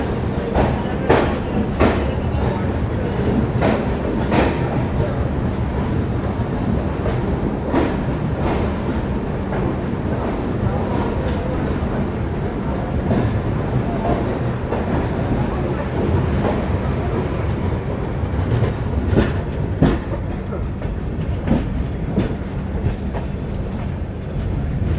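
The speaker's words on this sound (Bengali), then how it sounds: "ফাইনালি বীরাঙ্গনা লক্ষ্মীবাই ঝাঁসি থেকে ট্রেন ছেড়ে দিয়েছে" The Chambal Express rolls on after pulling out of Jhansi, a loud, continuous rumble of wheels on track with rhythmic clicks and rattles from the carriage.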